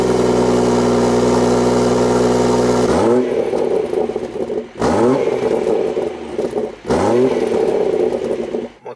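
BMW M140i engine doing a cold start: a loud, steady high-revving flare for a few seconds, then the revs drop and the engine settles into idle, with two further brief blips on the throttle, close to the car.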